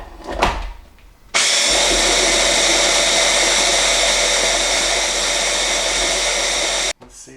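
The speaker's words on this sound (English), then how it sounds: "Blend that baby up." A countertop blender whirs loudly for about five and a half seconds, blending a sauce with toasted sesame oil, starting abruptly after a soft knock and cutting off sharply, with no talk over it.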